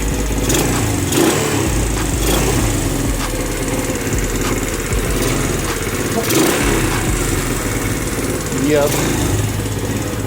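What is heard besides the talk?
free Chinese quad engine trying to run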